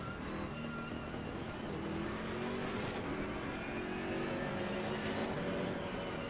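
A race car engine in Assetto Corsa Competizione drones steadily at high revs, a continuous buzzing roar with slight pitch shifts and no talk.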